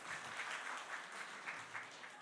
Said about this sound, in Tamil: நீங்கள் கைதட்டலாம்.